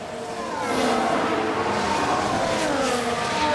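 Race cars in the F1 Manager 22 video game during a single-car crash replay, a steady loud engine roar and whine sustained throughout with no voices.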